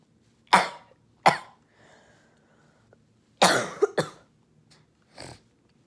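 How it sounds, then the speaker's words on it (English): A person coughs in a few sharp, separate bursts, with two quick coughs, a pause, then a tighter cluster and a final softer cough, close and clear with no talking. "Sorry if I'm coughing a lot,"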